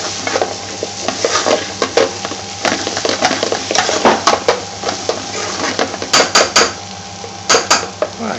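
Aloo bhaji curry with parsley stirred in a pan, a utensil scraping and clinking against the metal in irregular strokes with a faint sizzle underneath, close and fairly loud, several sharper knocks near the end.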